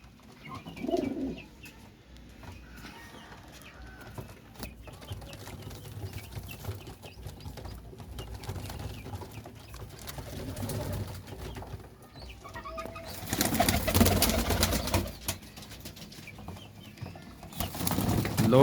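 Flying pigeons in Faisalabad cooing and fluttering in a loft amid low background noise, with a louder burst of wing flapping near the end.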